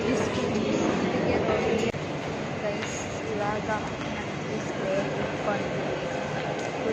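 Bengaluru metro train ride heard from inside the carriage: a continuous loud rumble and rail hum runs underneath, while people talk close by over the noise.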